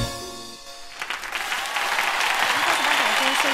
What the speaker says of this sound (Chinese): 再次把掌声送给阿宝